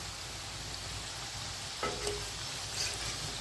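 Potato cutlet frying in hot oil in a pan, a steady soft sizzle running throughout with a few faint clicks and scrapes, close and alone.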